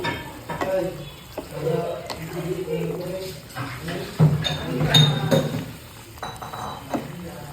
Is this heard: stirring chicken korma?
yes